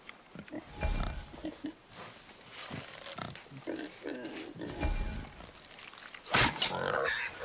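A wild boar in God of War, heard as a series of grunts and snorts over the game's background sounds, with a louder squeal near the end.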